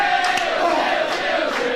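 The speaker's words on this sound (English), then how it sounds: "this crowd is rocking" Crowd at a wrestling event cheering and roaring continuously, a dense sustained wall of voices with a few louder shouts.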